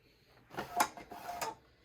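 A makeup storage drawer slides open, a short scraping rumble of roughly one second with two firmer knocks, close by in a quiet room.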